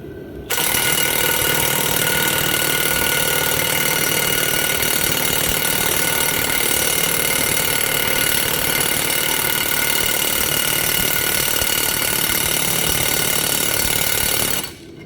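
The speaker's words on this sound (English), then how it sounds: "I think the battery might be weak in my gun." A battery-powered impact gun running on a weak battery drones steadily and loudly for about fourteen seconds, starting and stopping abruptly with a harsh, buzzing, even tone.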